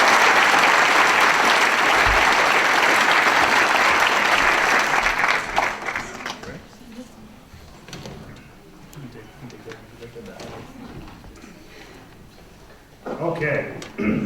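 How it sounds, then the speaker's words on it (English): A banquet audience applauds warmly for about six seconds; the clapping then fades into quieter room sounds with a few scattered claps and brief talk near the end. "Round of applause for Brianna Kitson."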